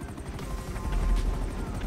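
A Buzzard attack helicopter in GTA V drones with a steady, loud rotor and engine rumble, its low throbbing constant throughout, with faint game noise around it.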